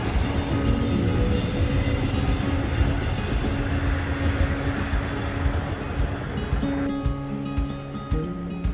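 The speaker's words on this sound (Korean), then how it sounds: "딱 맞춰서 동해선 열차가 멋지게 지나갑니다." A Donghae Line commuter train passes near Osiria Station in Busan, its wheels squealing loudly and rails rumbling continuously before the sound quickly fades away.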